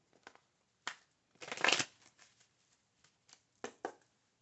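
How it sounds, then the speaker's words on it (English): Tarot cards are shuffled and laid down in quiet, irregular bursts of papery riffling and soft slaps, with one longer shuffle in the middle and brief pauses between. "Now, I'll put a few cards down, Gemini"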